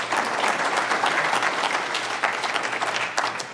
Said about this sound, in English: Big round of applause for Craig and his whole team.